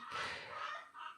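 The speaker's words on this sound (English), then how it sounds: "Can hear in the background a chook. One of my chickens has laid an egg." A backyard hen clucks after laying an egg, a steady run of bright squawking calls heard faintly in the background, fading briefly near the end before picking up again.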